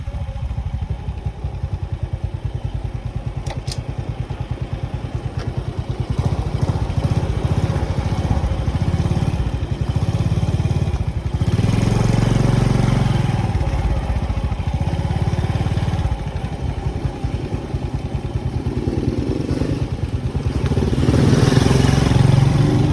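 A motorcycle engine with excessively loud ticking runs close by, its steady mechanical clatter continuous throughout, with revs rising a little toward the end.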